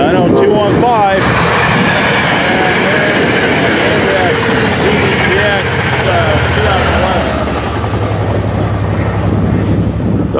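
BNSF freight train locomotives, including a DPU unit, roaring past close by with loud rumbling and wheel noise, then sustained rolling cars and wind buffeting, with a person talking over the noise.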